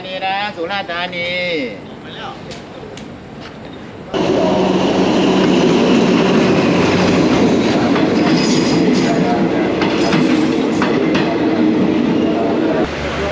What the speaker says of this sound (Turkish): Tren geliyor bu arada.